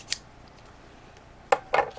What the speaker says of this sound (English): Went ahead and cut some more off the ends.